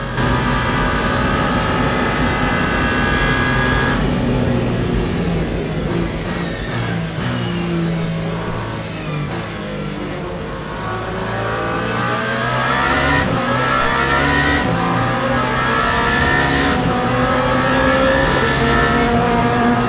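LMP2 prototype race cars in the Le Mans Ultimate sim at the 24 Hours of Le Mans: a steady, loud drone of high-revving engines with rising and falling pitch sweeps as cars pass and shift, continuous throughout.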